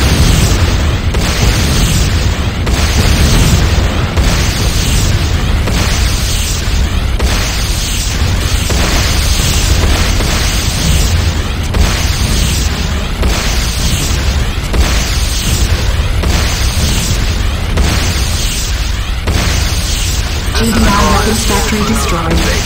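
A GDI weapons factory blows up in C&C Renegade, a dense, sustained roar of explosive rumble and crackling debris lasting the whole stretch, loud and close with no quiet gaps.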